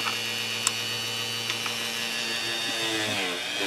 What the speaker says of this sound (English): be sure you hold on tight if you use a Dremel